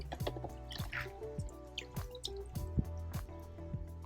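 Water drips and splashes while dishes are rinsed at a campsite washing station: uneven, quiet droplets and small squishy liquid sounds in a soft, continuous patter.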